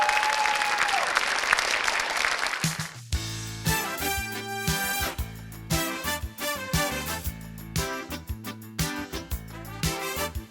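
At a KVN-style comedy show, a loud burst of audience applause rolls for roughly two and a half seconds, then cuts off as punchy rhythmic music takes over.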